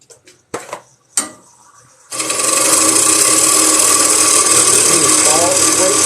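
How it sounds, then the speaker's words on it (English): A wood carving gouge is pressed straight down across the grain, giving a couple of sharp knocks first and then a loud, continuous scraping, rasping cut that runs for several seconds. "You're actually just pushing the gouge straight down."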